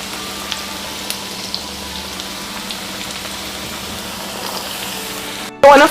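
Chicken pieces deep-frying in a pot of 350-degree oil for an orange chicken recipe, a steady close crackling sizzle throughout, with a brief louder clatter at the very end.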